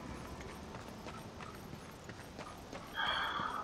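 Horse hooves clip-clop steadily in a video game at moderate loudness, and a brief whinny rises near the end.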